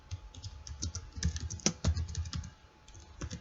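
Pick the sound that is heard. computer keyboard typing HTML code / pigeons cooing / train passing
computer keyboard typing HTML code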